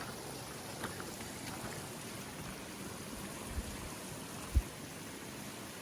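A small brook flows along a hiking trail in Vermont, its steady, low wash of running water continuous and fairly quiet, with a couple of brief soft knocks near the end and no voices.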